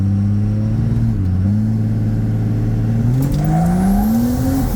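A 1000 hp compound-turbo 6.7 Cummins diesel in a second-gen shorty truck idles and rumbles loudly, then revs up with a rising engine drone and turbo whistle near the end.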